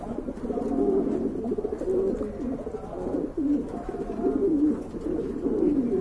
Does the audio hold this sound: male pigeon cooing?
yes